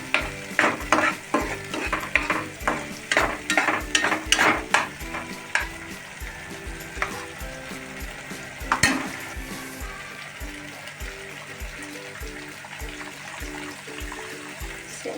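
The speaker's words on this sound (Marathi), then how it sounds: "काळा मसाल्याचं वाटण केलेलं आहे ना, ते थोडं परतवून घ्यायचं याच्यात।" Black masala paste for a drumstick vegetable curry is sautéed in a pan, with a quick run of rhythmic stirring scrapes over a loud sizzle that then settles into steady frying with an occasional stir.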